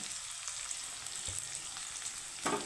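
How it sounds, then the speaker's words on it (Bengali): Chopped onion lightly frying in a pan, giving a steady close sizzle with a brief stir or clatter near the end and no voices. "তো পেঁয়াজটাকে আমি হালকা ভেজে নেব"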